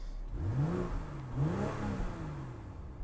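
Two quick throttle blips from a 2022 BMW X4 M40i set to Comfort mode climb and fall back to a low idle, close by and fairly subdued with no voices.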